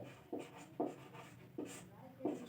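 Handwriting on a board or page during a maths lesson, four distinct scratchy strokes in a slow irregular rhythm, close and fairly faint, with no talk over them.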